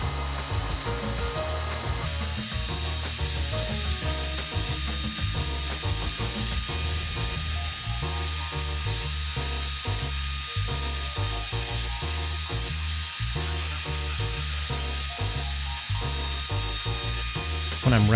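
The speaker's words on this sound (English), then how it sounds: "When I'm routing the letters, I like to draw the router toward me." A wood router carves letters into a wooden welcome sign, giving a steady, close, high-pitched whine with a dense, chattering, ratcheting texture that continues without break, with no talk.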